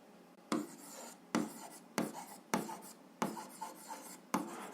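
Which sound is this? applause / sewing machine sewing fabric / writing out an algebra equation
writing out an algebra equation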